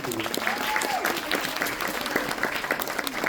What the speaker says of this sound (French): On peut encore les applaudir si vous voulez.